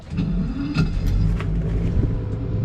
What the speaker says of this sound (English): Let's see if the engine fires up.